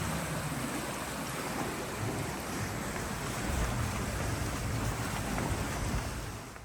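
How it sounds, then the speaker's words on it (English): A fast-flowing wild river in the Swedish wilderness, heard from a small bridge, makes a steady broadband rushing roar that stays loud and continuous throughout, with no voices. "This is a cool little bridge over this fast flowing, really wild river."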